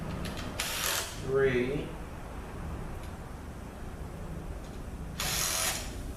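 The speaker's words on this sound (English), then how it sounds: "we're going to take the bolts out that hold the Mechatronic unit on" A ratchet clicks in two brisk bursts as it loosens the bolts holding the mechatronic unit onto a ZF8HP70 transmission valve body, with someone talking quietly in a workshop between the bursts.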